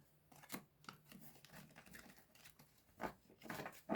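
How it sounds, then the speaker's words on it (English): Brisk papery riffling and soft slaps of cards being shuffled, in short bursts with brief pauses, close and fairly quiet, no talking. "Just going to give this a quick shuffle."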